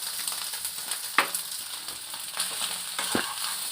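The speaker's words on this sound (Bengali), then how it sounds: "এবার এর মধ্যে আমি পাস্তা ম্যাগিটা অ্যাড করে দিচ্ছি" Maggi pasta tossed with egg fries in a pan, a constant close sizzle broken by a few stirring knocks and scrapes, with no talking.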